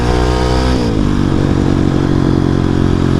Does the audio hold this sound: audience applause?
no